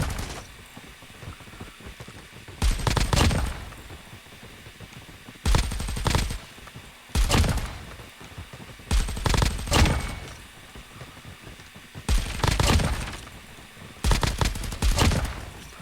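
The Ghost weapon fires in a shooting video game in six separate bursts of rapid automatic shots, each lasting roughly a second, loud against a quiet background with steady gaps between them and no talk.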